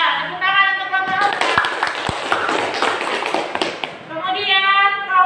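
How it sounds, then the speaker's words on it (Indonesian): Classroom applause for a student group: a burst of scattered clapping from a class of children lasting a few seconds, with a teacher's voice speaking before and after it. "tepuk tangan untuk kelompok"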